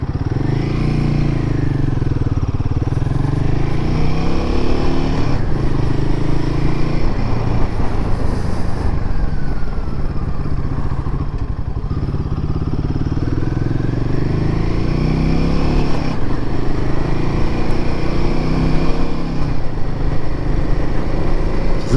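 A Royal Enfield Himalayan 450 motorcycle being ridden, its engine droning steadily up close with rising and falling pitch as gears shift, amid wind and road rumble.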